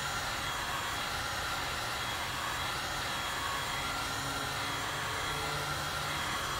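A variable heat gun blows a steady, loud hiss of hot air while heating a sheet of quarter inch ABS plastic, the constant airflow noise unbroken throughout.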